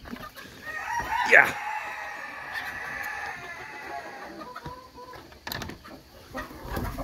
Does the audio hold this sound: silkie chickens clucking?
yes